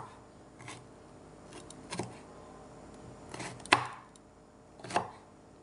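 Knife chopping onions and carrots on a board for an ampalaya and meatball dish, a few sparse, uneven cuts with pauses between, close and fairly quiet, no talking.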